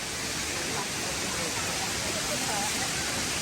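A waterfall roars as a dense, steady broadband rush that never lets up, loud and close with no other sounds over it.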